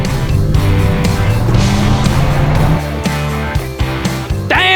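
The engine of an EC RAM with a standard engine, big tyres and a big canopy roars loudly up close as it accelerates in a 100-meter sprint, its rising tones stepping through gear changes.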